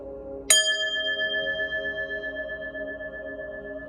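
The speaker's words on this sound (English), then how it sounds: "I'm going to ring the bell, clear your energy" A single bright bell strike rings out close by, its clear tone sustaining and slowly fading over several seconds.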